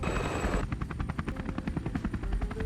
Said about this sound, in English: This is what an Airbus helicopter refueling in flight looks like.